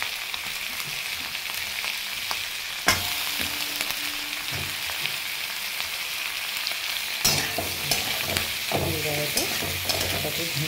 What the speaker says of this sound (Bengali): এবারে এটাকে ভালো করে লাল করে ভেজে নেবো